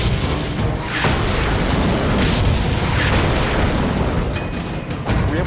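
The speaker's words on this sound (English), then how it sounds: "there's a secondary explosion that blows the turret off that tank" A tank blowing apart in a wartime tank battle as a secondary explosion tears its turret off, heard as a dense, sustained roar of blast and rumble with a few sharper cracks, loud and close, with no voices.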